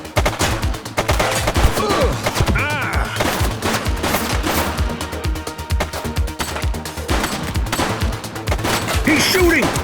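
Rapid gunfire in The Precinct, a police video game, with dense overlapping shots and bursts that keep up loud and steady for the whole stretch, broken now and then by a voice.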